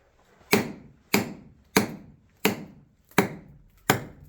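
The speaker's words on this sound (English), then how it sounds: "You could hear the quartz cracking." Quartz rock cracks as a slab is pried loose inside a gold mine: six sharp, loud snaps, evenly spaced about two-thirds of a second apart, each with a short decaying tail. No voices.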